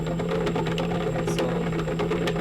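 An e-bike motor with a fault runs steadily, giving a continuous mechanical whirr with a buzzing, rattling undertone, close and unbroken.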